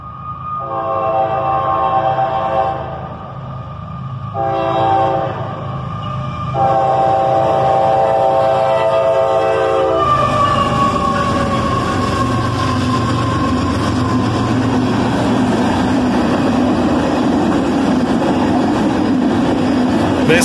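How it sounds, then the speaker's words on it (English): Northbound freight train of empty iron ore cars passing at high speed, loud horn blasts in three long bursts followed by a roaring, rumbling rush of rolling wagons close by. "as a northbound train was coming"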